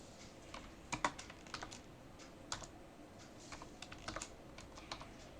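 Bengali text being typed on a computer keyboard: scattered soft key taps in uneven bursts, faint and close, with no talking.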